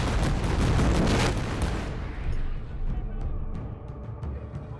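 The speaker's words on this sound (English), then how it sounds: "to actually experience firing a cannon" A single loud sailing-ship cannon blast booms up close, then its rumble trails off with scattered crackles and echoes fading into the distance.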